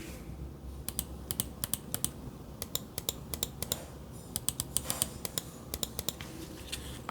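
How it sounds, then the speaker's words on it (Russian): Button clicks of a RAWM SA computer mouse, a series of sharp, crisp clicks in irregular bursts, fairly close and quiet against a low background hum, with no talking. "Вот как звучат клавиши."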